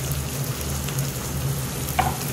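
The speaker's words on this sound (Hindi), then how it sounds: "अब इसमें अदरक लहसुन का पेस्ट डाल देंगे और इसको थोड़ा सा मिक्स कर लेंगे ताकि भून जाए" Ginger garlic paste and spices fry steadily in a pan for aloo gobhi, a continuous close sizzle with faint stirring scrapes and one brief clink near the end.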